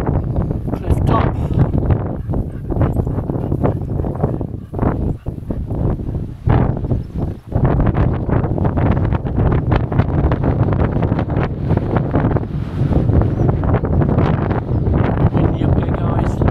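Strong coastal wind buffets the microphone on a cliff top near Greenan Castle in Ayr, Scotland, a loud continuous roar with gusty surges and brief lulls throughout.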